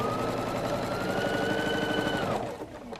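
A sewing machine stitches a quarter-inch seam on quilt block units, a fast steady mechanical whir with rapid needle chatter for about two seconds before stopping, no talking.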